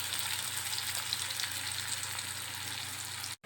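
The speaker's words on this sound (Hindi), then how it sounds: "डालने के बाद इसको हम हल्का सा लाल कर लेंगे।" Chopped onions frying in oil for an egg curry, a dense, even hiss of sizzling that holds steady throughout, close and moderately quiet, then cuts out briefly at the end.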